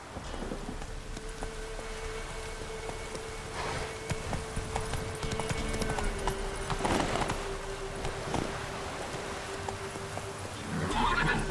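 Roach, the horse in The Witcher 3: Wild Hunt, gallops with steady clip-clop hoofbeats and occasional snorts over a continuous hiss of rain and a low droning tone.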